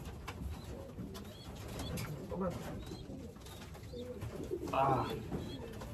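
Racing pigeons, a hen and a cock, coo softly in a loft, their low murmurs blending with background noise and faint chirps while a person talks nearby.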